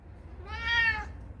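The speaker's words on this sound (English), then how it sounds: "She's a cute little kitty." A small cat gives one clear, rising-and-falling meow lasting about half a second, close and fairly loud over a quiet room hum.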